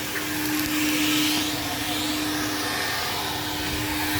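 Vacuum cleaner running steadily at a coin-operated car wash, a loud continuous whine with a constant hum, alone with no talk.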